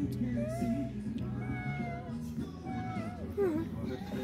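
A cat meows repeatedly at a vineyard guesthouse in Northern Cyprus, several rising and falling cries spread over a few seconds, fairly close, mixed with low background voices and ambient murmur.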